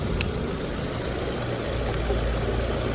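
A warmed-up car engine idles in a steady, even rumble, close and continuous for the whole stretch, with no voices over it.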